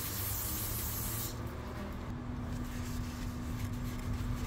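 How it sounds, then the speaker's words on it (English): An aerosol can sprays onto the rear brake parts of a 2017-2022 Jeep during a brake service, a loud continuous hiss that holds steady for over a second before easing off into a softer spray. "I'm gonna spray this because it comes with grease,"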